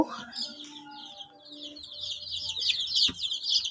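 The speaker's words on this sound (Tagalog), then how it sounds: "dito po nakalagay ng ating mga sisiw" Baby chicks in a backyard farm brooder make a dense stream of high, rapid peeping chirps, soft and fairly close, over faint low background tones.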